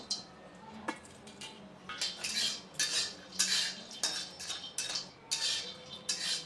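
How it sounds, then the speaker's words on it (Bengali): Cashews, raisins and pistachios are stirred in a kadai for Ganesh Puja laddu, giving repeated light scraping and clinking of a spoon against the metal pan at close range, with no talk. "তো এগুলিকে আমি একটু ভেজে নেব।"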